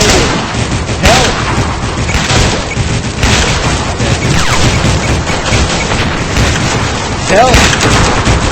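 Gunfire crackles through a loud, dense stretch of shooting in the Roblox heist game Notoriety, set in a haunted forest. Dull booms and sharp bursts rise over constant game noise, and short voice lines break in now and then.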